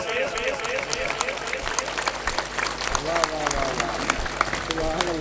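An audience claps in response to a motivational speaker's request at a gathering, with dense, steady clapping and crowd hubbub throughout.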